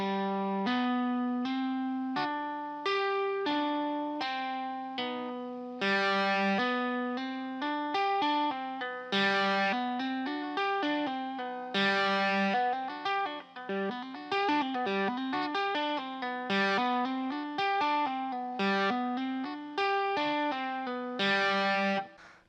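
Electric guitar tapping with low distortion in a Mixolydian pattern over the A Aeolian scale: rapid, even streams of ringing tapped notes, clear and continuous, with no talking.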